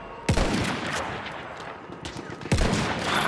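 Rifle gunfire in Battlefield 1 on a battlefield: two sharp, loud shots about two seconds apart, each with a rolling tail, over a constant roar of distant combat noise.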